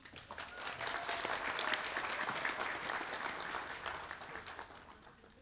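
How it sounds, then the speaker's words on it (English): Steady audience applause fills a hall at an adult education graduation ceremony for new National Adult Ed Honor Society members, a continuous wash of many hands clapping, moderately distant and unbroken by talk. "Can we have one more round of applause for our newest members of the National Adult Ed Honor Society?"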